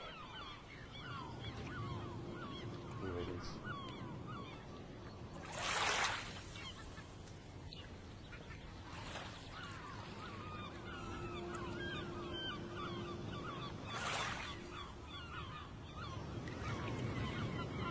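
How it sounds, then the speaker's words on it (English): Recorded ocean waves rolling with seagulls crying over them, a steady wash of surf under repeated gull calls and a few louder bursts, played in a yoga class with a voice speaking briefly. "I love that roll with those waves and those seagulls."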